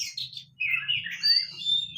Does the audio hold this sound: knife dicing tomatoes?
no